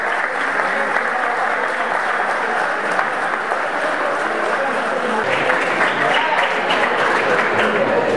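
Loud audience applause at a school graduation ceremony for upper secondary and vocational students, sustained dense clapping from a large crowd filling the room, swelling slightly toward the end.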